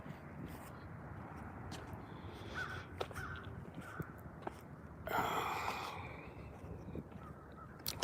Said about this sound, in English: it's some big old crows.